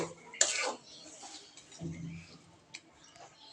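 A metal lid set down on a pan of cooking tengra fish dopeyaja, giving one sharp clatter early, then softer scrapes and a small click later, fairly close and quiet.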